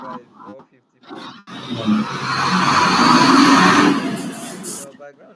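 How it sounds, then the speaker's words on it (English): A heavy truck rumbles past close by, a loud broadband roar that swells over a few seconds and then fades. Brief speech is heard before and after it. "It's one heavy truck that just passed."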